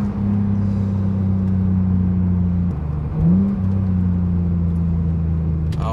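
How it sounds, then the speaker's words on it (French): An Audi TT MK1 V6 idles and rumbles through its exhaust, a steady low engine drone heard close up, with a brief blip of revs partway through before it settles back to a smooth hum. "le son est sublimé grâce à l'échappement"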